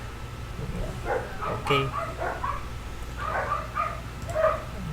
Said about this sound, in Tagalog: pagpasensyahan niyo na po kung may tahol kayong naririnig dahil baka nahagip ng aking mic.